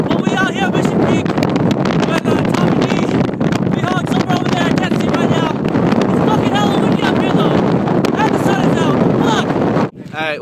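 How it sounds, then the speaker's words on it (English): Strong wind buffets the microphone atop Mission Peak, a loud, constant roar of rumbling gusts that continues almost unbroken until it briefly drops out near the end, with people talking underneath. "It's fucking hella windy up here."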